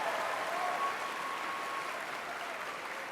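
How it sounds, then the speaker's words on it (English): Steady, dense applause from an audience at a cosplay competition, sustained and even for a few seconds without a break, heard from within the crowd. "Can we have a big round of applause? Big, massive round of applause."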